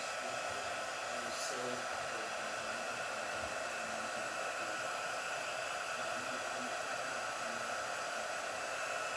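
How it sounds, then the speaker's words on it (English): A heat tool blows hot air in a steady, loud, unbroken whoosh that fills the whole stretch, a constant hiss like a hair dryer with no pauses and no voices over it. "I'll try to drown him out with the noise of the heat tool"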